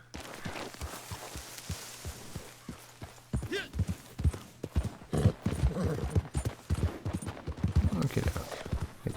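Horse hooves clip-clopping in the Western video game Red Dead Online, a steady, fairly close rhythmic beat of hoof strikes that grows busier and more uneven, with a voice talking over it and a hint of neighing.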